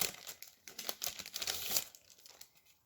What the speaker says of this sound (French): C'est que j'ouvre des petites pochettes.